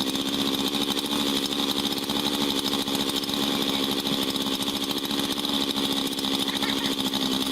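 A chainsaw cuts straight into a tree trunk during felling, its engine a steady, fairly loud buzzing drone that holds without pause and is heard alone.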